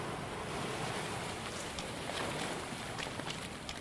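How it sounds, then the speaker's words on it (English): Water waves in the video game The Touryst, a soft continuous wash of surf with gentle splashy swells, faint and steady throughout. "That's some nice water"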